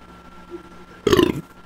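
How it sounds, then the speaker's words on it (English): A man gives a single loud, deep burp after drinking beer, lasting under half a second over a quiet background hum. "Apologies if you find burps gross."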